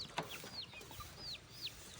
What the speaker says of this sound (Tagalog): Ito may manok.